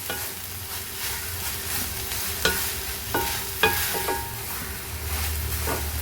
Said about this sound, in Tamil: நல்லா ஒரு ஃபைவ் மினிட்ஸ் நல்லா வதங்கட்டும் இந்த கீரை